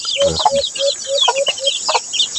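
Native Philippine junglefowl rooster (manok labuyo) on a chicken farm, giving repeated short calls and clucks close by in a steady series, with other birds chirping faintly behind.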